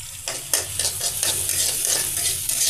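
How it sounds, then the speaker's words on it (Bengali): Onion and garlic frying with dried chili in a pan, a steady close sizzle broken by repeated scraping stirs, with no talking. "পেঁয়াজ আর রসুন একসাথে শুকনো মরিচের সাথে ভেজে"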